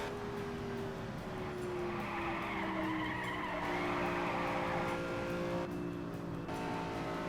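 In the racing game Indianapolis 500 Evolution, a Lotus race car slides through a turn on the 1964 Trenton oval, tyres skidding over a sustained engine drone with falling pitch glides, steady and loud, no speech.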